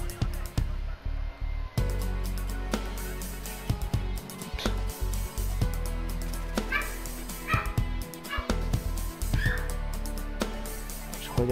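Dogs barking and yipping in the video game Modern Warfare Remastered, repeated sharp barks and whimpers over a dense busy game mix, with people talking throughout.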